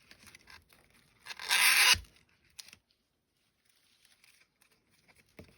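Sharp scissors are drawn along the ends of a curling ribbon, producing a brief loud rasping scrape, with softer rustles and crinkles of the ribbon before and after, close and without talking.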